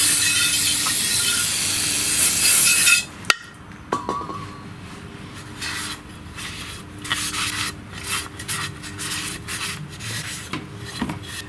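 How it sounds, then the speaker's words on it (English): Brake cleaner sprays from a can with a loud, hissing blast onto a John Deere lawn tractor engine part. A sharp knock follows, then scattered rubbing and wiping scrapes. "Clean this up with the brake cleaner again."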